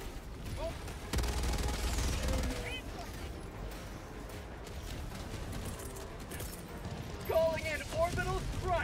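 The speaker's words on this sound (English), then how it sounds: "There's so much ammo in the minigun." An EXO-45 Patriot mech's minigun in Helldivers 2 fires in dense, sustained bursts that start abruptly after a quieter opening and roll on loudly. Other battle noise and short chirping sounds are mixed in.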